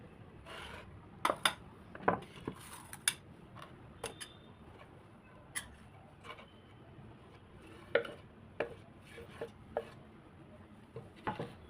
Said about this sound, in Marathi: आता त्याला मिक्स करून घेऊया मसाल्यामध्ये